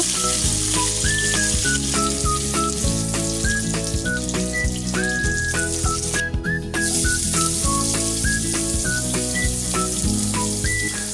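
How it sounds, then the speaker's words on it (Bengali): Fish fry in hot oil in a pan, a loud, continuous sizzle and crackle with small pops, while a melodic tune plays throughout. "মাছ খুব ভালোভাবে এপাশ ওপাশ উল্টে ভেজে নিব"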